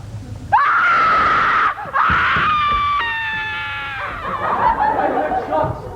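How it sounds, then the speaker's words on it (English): A loud, wavering scream from a performer on stage in a high school production of a Sherlock Holmes comedy play, rising sharply, breaking off, then resuming and trailing into a moaning wail over room noise. "We heard a scream."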